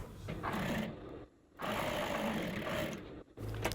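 A sewing machine stitches a 1/4 inch seam joining the lower part of a sleeveless blazer, running in two steady bursts with a short pause between them.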